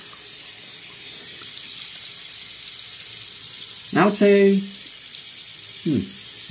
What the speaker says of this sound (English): So I'm going to rinse my face with cold water.